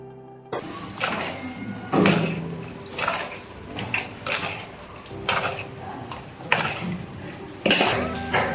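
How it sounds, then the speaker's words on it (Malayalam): Chicken being hand-mixed with chili powder, coriander powder and salt in a metal bowl in a Thiruvananthapuram hotel kitchen gives repeated clattering, scraping knocks of dish and utensil in a steady rhythm, close and fairly loud, with no talk. "മുളക് പൊടി, മല്ലിപ്പൊടി, ഉപ്പും ചേർത്താണ് ഈ ചിക്കൻ മിക്സ് ചെയ്യുന്നത്."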